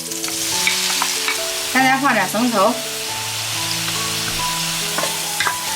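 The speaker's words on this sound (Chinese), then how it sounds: "下面咱开始炒菜，炒个西红柿" Tomatoes stir-fried in a wok with light soy sauce added, a continuous loud sizzle and hiss with scraping stirs throughout, while someone speaks briefly over the cooking.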